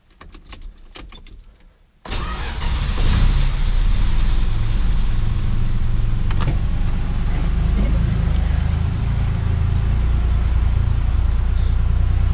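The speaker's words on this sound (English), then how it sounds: "Idles so well." A Mopar car engine idles steadily and quietly on its factory exhaust, a low even rumble that starts abruptly after a short quiet lead-in with faint jingling and then holds constant close by.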